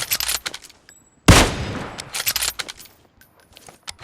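Video-game gunfire crackles in quick, sharp bursts, with one loud, sustained volley in the middle and scattered shorter shots before and after, close and dominant with no talking.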